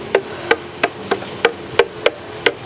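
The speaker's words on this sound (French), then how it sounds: "Prends le marteau. Tapote dessus partout." A hammer taps a mould in a pastry kitchen: eight light, evenly spaced metallic taps at a steady rhythm, close and crisp, with no voices.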